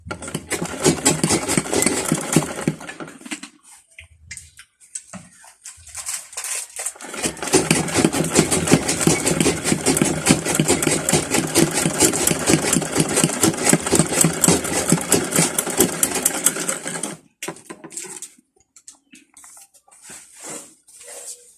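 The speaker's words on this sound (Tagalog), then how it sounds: "Ako, dito ko na lang sa makina tatahiin." A sewing machine stitches a knit beanie in long continuous bursts of rapid mechanical chatter, loud and close, with one pause early on and a stop near the end.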